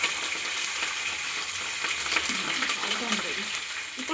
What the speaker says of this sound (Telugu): కొద్దిగా ఫ్రై చేసుకున్నాం.